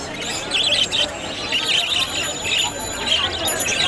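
Many small caged birds at the Mirpur-1 bird market in Dhaka chirp and squeal continuously, a dense high twittering mixed with crowd murmur and nearby voices.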